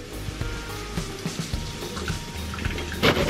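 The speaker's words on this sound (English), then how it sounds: "drain all the water out of there" Water drains and trickles from grated kamokamo in a kitchen, a short wet splashing and dripping sequence heard alone, close and moderately loud.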